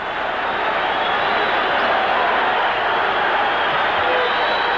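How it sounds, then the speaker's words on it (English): A boxing arena crowd roars steadily throughout, a dense, loud wash of cheering with whistles and screams blended in, no single voice standing out. "They're whistling and screaming"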